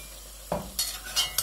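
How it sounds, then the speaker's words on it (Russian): Chunks of meat drop into a hot pot of oil for plov, giving a brief thud followed by soft sizzling and a few light scraping stirs, close and fairly quiet. "Теперь опускаем мясо."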